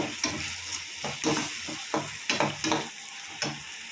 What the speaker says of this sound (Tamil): நல்லா அந்த கிரேவியை வதக்கணும்.